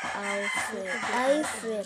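Chickens cluck and crow close by, loud and overlapping, with a run of drawn-out, rising calls.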